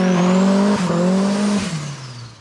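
A 2.6 turbo Ford Fiesta with a newly fitted boost controller revs hard and loud, its engine note climbing and dropping in steady pulls, then easing away toward the end.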